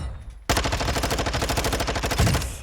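Rapid automatic SMG fire at the firing range in Modern Warfare 2, a steady fast burst of close, loud shots kicking in after a brief quiet lead-in and running continuously to the end.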